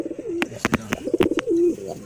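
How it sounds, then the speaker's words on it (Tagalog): Domestic pigeons coo in a loft, a pair giving soft rolling coos close by, with short flutters and taps between the calls, and no talking. "ito mga kalapatid is bagong pair natin, Paul Sion and then Silver Toy."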